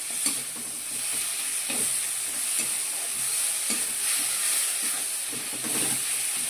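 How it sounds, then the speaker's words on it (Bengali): A fish head fries with spices in a pan for dal, giving a constant hissing sizzle with periodic scraping strokes as it is stirred, close and fairly loud. "এখানে তোমার মাছের মাথা কষাচ্ছি।"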